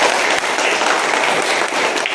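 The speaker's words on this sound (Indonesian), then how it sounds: "Kasih aplaus untuk kelompok 1." Classroom group applauding a student group after its discussion presentation, a dense, steady wash of clapping that fills the whole moment with no talk over it.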